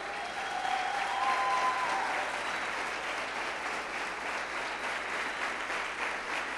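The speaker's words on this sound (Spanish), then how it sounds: "¿Cuántos dan un aplauso al Señor?" A church congregation applauds the Lord during a sermon, a loud, sustained wash of clapping from a large crowd that holds evenly for several seconds, with a voice briefly audible at the start.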